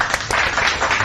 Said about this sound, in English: Let's give him a big round of applause for watching the show.